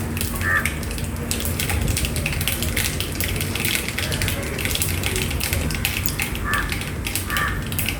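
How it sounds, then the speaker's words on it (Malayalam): Mustard seeds splutter in hot oil for several seconds, throwing off rapid, irregular sharp crackles and pops over a continuous close frying hiss, with no talking. "കടുക് പൊട്ടി തീരുമ്പോഴത്തേക്ക് കറിവേപ്പില ഇട്ട് കൊടുക്കുക"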